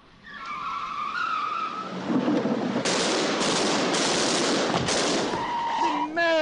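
A car speeds up close to the camera on a film set, its engine rising before a loud, sustained broadband tire skid that cuts off abruptly near the end.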